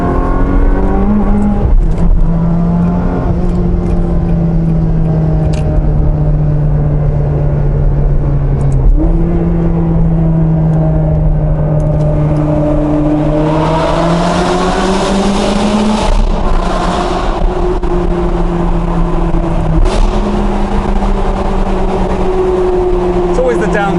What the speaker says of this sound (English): The downshift sounds amazing.